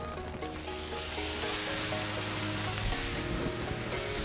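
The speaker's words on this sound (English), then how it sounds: "when the steak goes in, it's going to sizzle and the sesame oil will take over." Steak in a sesame oil marinade sizzles loudly in a hot skillet for Chinese-American pepper steak, a continuous close crackling hiss with faint stirring scrapes and no talking.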